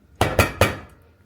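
Metal loaf pans clank together three times in quick succession, close and sharp, each knock ringing briefly before fading.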